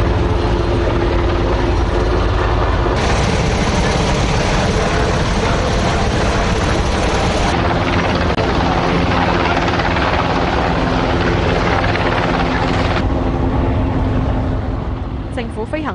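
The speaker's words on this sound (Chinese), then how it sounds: "政府飞行服务队的直升机奉召协助。" A Government Flying Service rescue helicopter roars loud and close throughout, its dense rotor thrum and engine whine steady from start to finish, with no pause.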